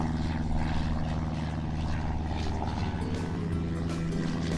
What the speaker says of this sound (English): Oh look, the engines are making the propellers turn round.